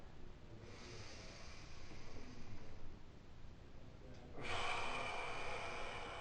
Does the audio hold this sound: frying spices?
no